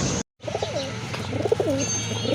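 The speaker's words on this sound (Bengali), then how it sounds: "ওই যে ওইটা হচ্ছে নর কবুতর মাশাআল্লাহ ডাকতেছে" Male Kagoji pigeon cooing in a series of soft, rolling coos after a brief gap, fairly close, over a steady low background hum.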